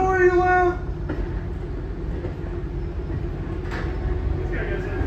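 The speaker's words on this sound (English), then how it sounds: "I chased this first Summerville train." The TVRM Summerville steam special train, running on the Fourth of July, opens with a loud, brief whistle blast, then rolls past with a steady, heavy rumble and clatter as voices are heard nearby.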